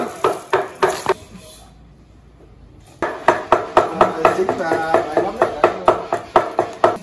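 A knife or cleaver chops rabbit meat for Vietnamese blood pudding, sharp regular thuds close by, pausing briefly before resuming at a faster steady rhythm, with faint talk in the background.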